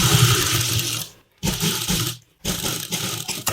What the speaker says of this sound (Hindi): अब इसके ऊपर से भी हम एक एक सिलाई लगा लेते हैं